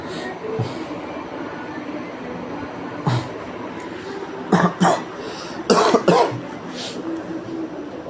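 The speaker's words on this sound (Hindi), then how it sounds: "अब ये खांसी का भी थोड़ा कम हो जाएगा" Several short coughs, sharp bursts that recur with pauses between them, over a steady rumbling background like a moving train.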